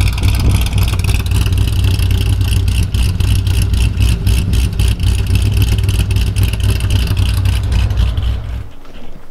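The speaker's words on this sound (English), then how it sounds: "Car sounding good." F-Body car with WS6 wheels, its engine running loud and close with a deep steady rumble and revving, cutting off abruptly near the end.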